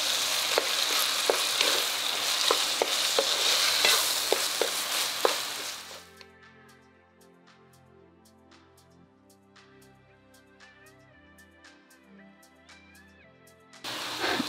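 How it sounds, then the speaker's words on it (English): Potatoes being mixed in oil in a pan for stuffed capsicum filling, a loud sizzle with sharp spoon scrapes for several seconds, then a quiet stretch of soft music before the sizzle returns. "Now is the time to add the potatoes. Let's mix this well"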